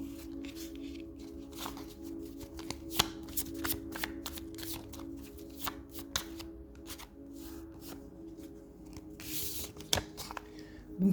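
Oracle cards shuffled by hand during a reading, a close rapid riffling and flicking with irregular bursts of crisp card slaps and rustles over about eleven seconds.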